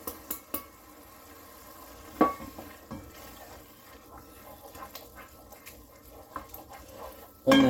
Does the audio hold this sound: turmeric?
yes